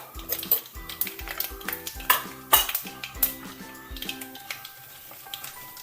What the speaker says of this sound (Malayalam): കടുക് പൊട്ടിയതിന് ശേഷം നമുക്കൊരു ചെറിയ സ്പൂൺ ഉഴുന്നും പരിപ്പിട്ട് കൊടുക്കാം